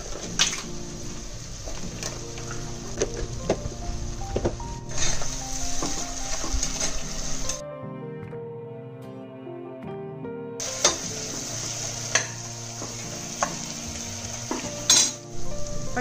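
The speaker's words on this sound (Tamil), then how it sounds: "வெங்காயம் வதங்கட்டும்." Onions frying in a pan for corn biryani, a continuous bright sizzle with frequent scraping and clinking stirs, the sizzle cutting out briefly midway before resuming, no voices.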